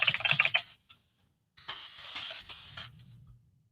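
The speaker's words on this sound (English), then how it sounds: "Give me your keyboard. All right. We're going to see Crystal's typing skills." Computer keyboard typing in two bursts, a quick flurry of clicking keys, a short pause, then a longer steady run of keystrokes, close and moderately loud with no talking.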